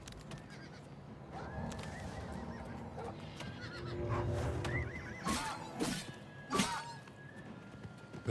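A black horse neighs in Oblivion Remastered, several rising, wavering whinnies with snorts, heard amid low game ambience, clattering hooves and a sharp crash, moderately close, with no talk.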